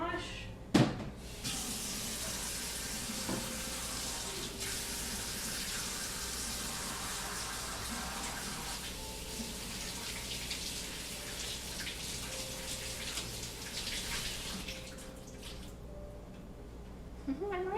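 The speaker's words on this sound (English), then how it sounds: "Let me just toss this and just give my hands a quick wash." Running water from a tap as hands are washed, a steady hissing stream lasting most of the stretch after a sharp knock at the start, then easing off near the end, with faint household sounds beneath.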